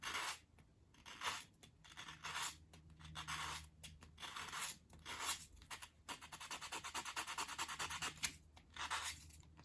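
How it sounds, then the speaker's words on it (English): Sandpaper rubbing the edge of a 1/12 scale miniature wooden dollhouse bookcase, quick back-and-forth strokes in uneven bursts that become a denser, faster run, close up and soft, with no voices. "you can actually just sand the corner again, just to blend in"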